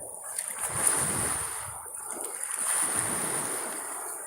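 Water from a mountain stream runs into the sea at Plataria, Greece, a steady close rushing and gurgling that holds an even level throughout, with a thin high whine above it.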